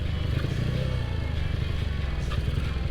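A Honda CB Tiger with a 300cc bored-out engine rides in third gear, giving a loud, steady, close engine drone with a fast throbbing pulse and some rattling clatter. No one speaks.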